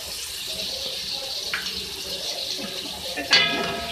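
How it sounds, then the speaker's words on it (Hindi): Half a cup of water pours into a pan of tomatoes and chicken for spaghetti, giving a soft, steady splash and trickle close by. There is a brief clatter near the end. "अब इसके अंदर साथ में मैं थोड़ा सा इसमें वाटर ऐड कर रही हूँ, 1/2 कप"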